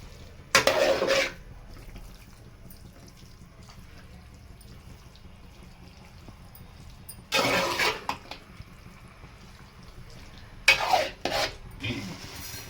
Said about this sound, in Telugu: ఇప్పుడు నేను హై పెట్టేసి ఇలా అయితే ఇంకా కలిపేస్తున్నాను